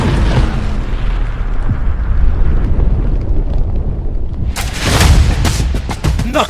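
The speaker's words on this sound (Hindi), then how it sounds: "जेलेंस्की के खुफिया लड़ाके हमला करते हैं और फिर नोवोरोसिस्क अड्डे पर होता है बड़ा धमाका।" Large explosion at the Novorossiysk naval base of Russia's Black Sea Fleet: a heavy continuous rumble gives way to a sudden loud bursting blast late on, followed by further crackling booms.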